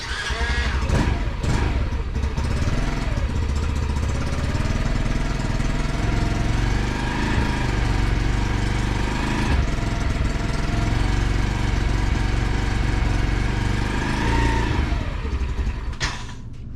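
A Grom clone motorcycle's small single-cylinder engine catches and runs steadily at a loud, close idle, a brief sputter at the start before settling into a continuous buzz that cuts off at the end.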